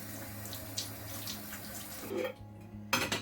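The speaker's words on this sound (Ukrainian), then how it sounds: "І також мию баночки." Running tap water flows steadily into a sink while glass jars are rinsed, a continuous close splash with a brief clink near the end, prepared for marinating cucumbers.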